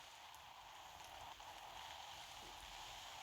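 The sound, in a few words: rain falling through a wall in the video game Roblox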